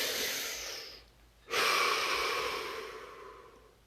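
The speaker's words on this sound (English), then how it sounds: "Deep breath." A single deep breath taken during a guided relaxation session: a long, airy exhale, a brief quiet pause, then a loud, full inhale that slowly fades, close to the microphone with no talking.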